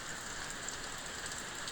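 Rain falling outdoors: a continuous, even hiss of steady rainfall, moderately loud and unbroken, with no voices.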